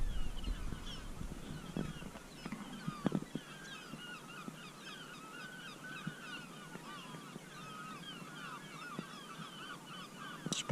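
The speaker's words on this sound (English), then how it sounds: "I'm woken up with seagulls." Birds honk and call continuously on a beach in Devon around six in the morning. The squawking is layered and moderately distant over faint wind, with no talking.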